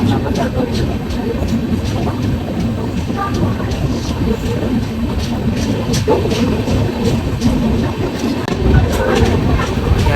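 A long train rolls steadily on the rails, travelling from Bhavnagar to Haridwar, with a continuous loud rumble and repeated clickety-clack of the wheels heard from inside the carriage, and a voice speaking faintly at times.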